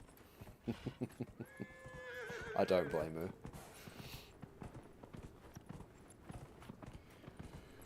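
A horse in the video game Dragon Age: Inquisition, with hooves clip-clopping and a neigh or whinny partway through, all under steady talk from a voice over the top.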